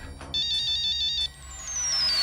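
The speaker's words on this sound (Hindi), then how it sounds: "फोन क्यों नहीं उठा रही है?" A mobile phone ringtone rings unanswered, a loud, bright electronic melody repeating its notes on its own for about a second, then giving way to a thin, fading, descending tone.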